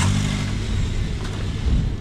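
A car is riding on Nusa Penida island, Indonesia, its engine droning low and steady from inside the cabin with continuous road rumble and no talk.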